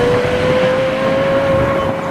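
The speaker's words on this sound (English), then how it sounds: "That is the best sounding car I've ever heard in my life." Lexus LFA supercar engine droning steadily from inside the moving car, a loud, sustained tone with a slowly rising pitch.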